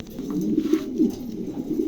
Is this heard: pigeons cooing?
yes